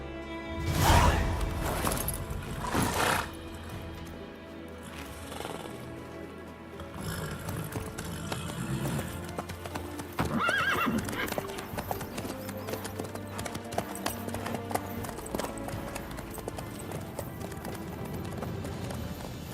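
Horse hooves clip-clop steadily through The Witcher 3 as the horse travels, close and continuous beneath layered game music and ambient sound, with no voices.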